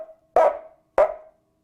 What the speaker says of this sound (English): a dog nervously barks in the distance